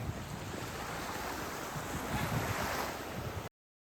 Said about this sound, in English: basically it was a deserted beach